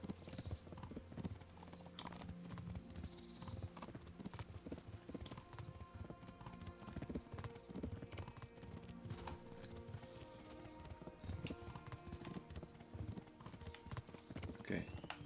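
Horse hooves clip-clop in a steady running rhythm in the video game Kingdom Come Deliverance, quiet and continuous throughout, with faint talk at times.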